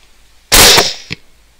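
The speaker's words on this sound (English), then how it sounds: "Now that seemed like a pretty good shot" A single loud gunshot fired at a wild hog on a wet, misty night: one sharp, close crack that decays quickly, with a short echoing thump just after, against an otherwise quiet background.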